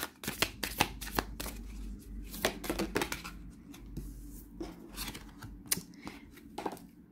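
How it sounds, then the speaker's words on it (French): Oracle cards, a Gaïa deck used for a weekend reading, get shuffled by hand in repeated close riffles and sliding flutters, loud and busy throughout with no talking. "Elles glissent les cartes."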